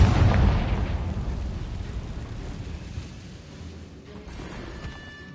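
A Confringo fire spell explodes in Hogwarts Legacy, a loud booming blast at the start that rumbles and slowly fades over several seconds, with no talk.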